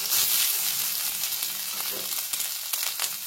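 Vegetables fry with ginger, salt and turmeric in a pan, making a bright, dense sizzle that stays loud and steady, broken by faint stirring scrapes.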